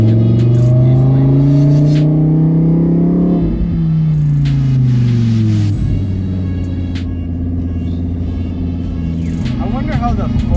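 A 2020 Lamborghini Huracan EVO Spyder RWD engine pulls hard in a loud, close, sustained acceleration, its pitch rising and dropping through gear changes, with a steady rumble heard from inside the car.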